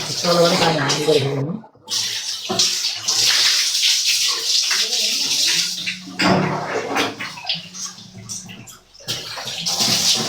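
Water is poured repeatedly over a dog during a shampoo bath, with splashing and sloshing throughout, under near and frequent voices talking.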